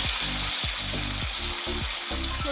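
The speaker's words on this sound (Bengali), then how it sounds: "সেদ্ধ করে রাখা আলুগুলোকে লাল করে ভেজে নেব।" Boiled potato pieces fry in hot oil in a kadai with a loud, continuous sizzle and a regular, repeated scraping stir. No one speaks.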